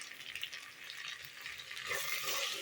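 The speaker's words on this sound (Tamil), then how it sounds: "நல்லா ஃப்ரை பண்ணி விட்டுக்கணும்." Ginger garlic paste with coriander and mint frying in a pan for mutton biryani, a soft continuous hiss that swells louder toward the end, with no talking.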